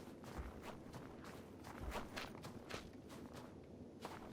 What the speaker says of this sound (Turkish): Abi hayal meyal duyuyorum ama sanki iki ayak sesi var ya.